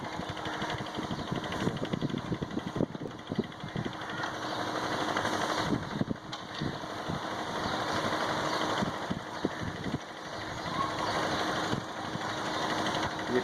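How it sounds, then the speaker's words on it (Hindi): A dump truck's diesel engine rumbles steadily at a bridge construction site, a loud continuous idle-like drone with clattering knocks and vibration throughout. "ये ट्रक आ रहा है, तो आप देख सकते हैं यहाँ पे कंस्ट्रक्शन काम बहुत तेज़ी से जारी है"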